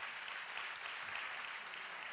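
Church audience applauding a pastor's wife of 42 years as she is called up to greet them, a steady broadband patter of clapping throughout, moderately loud and without speech.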